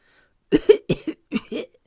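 A voice acts out a series of rough, gravelly coughs, about five short bursts in quick pairs, imitating a dragon's cough.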